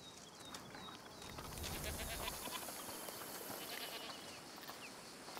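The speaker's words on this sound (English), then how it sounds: "It's a goat" A goat bleats in A Plague Tale: Requiem, a few wavering cries over a steady rural outdoor ambience, fairly faint and moderately distant, with no talk over it.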